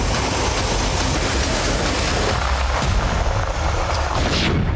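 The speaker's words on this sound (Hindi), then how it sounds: "कुर्स्क के ये धमाके" War footage of explosions in Kursk: a loud, sustained roaring rumble of blasts and fire, dense and continuous throughout with no voices over it.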